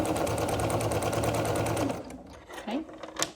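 A sewing machine stitches a quilt, running in a loud, steady, close mechanical whir for about two seconds before stopping, followed by quieter handling noises.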